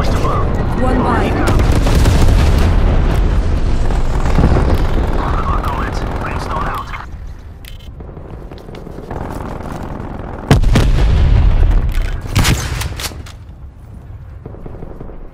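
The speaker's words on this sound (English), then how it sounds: "Transmitting vector for napalm strike." Napalm strike explosions in Call of Duty: Cold War on the Slums map. A loud, continuous roaring rumble of fire and blasts swells and fades, with a sharp boom near the end amid gunfire and intermittent game voice lines.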